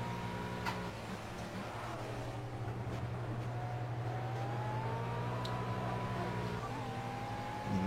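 A McLaren race car in a racing video game drives behind another McLaren, its engine a steady, fairly quiet drone with a slowly rising and falling whine.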